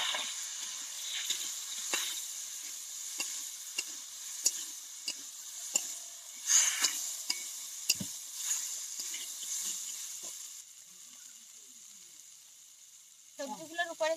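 Potatoes and cauliflower with boiled peas for pea ghugni being stirred in a pan, soft sizzling hiss with repeated scraping strokes of a spatula, fairly quiet and close, ending with a few clinks.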